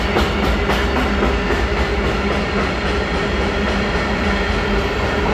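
Freight wagons rolling past at Göttingen station, a dense, continuous loud rumble with rhythmic clacking from the wheels over rail joints, close by and steady throughout.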